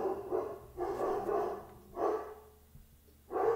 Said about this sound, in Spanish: Son mis perros ladrando.